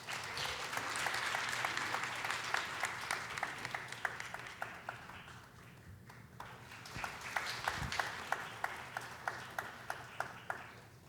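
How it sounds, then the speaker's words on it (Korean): Audience applause at a Yanghwajin Thursday lecture, greeting a singer-songwriter before her song: a steady wash of many hands clapping, swelling and dipping, then settling into sharper, spaced individual claps near the end. "박수 부탁드립니다."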